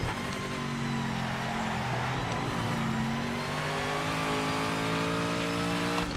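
A Jaguar E-Type racing car engine in a racing video game drones loudly up close, its pitch rising and falling as it revs through a run, with no talking.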